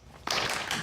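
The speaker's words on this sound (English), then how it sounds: "Applause." Applause from an audience at a general meeting, breaking out suddenly as a dense burst of clapping that holds steady through the short moment.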